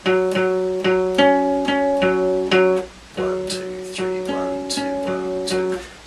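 A guitar picks out a steady repeating pattern of individual notes over ringing chords, clear and close, with a short pause midway and no voices.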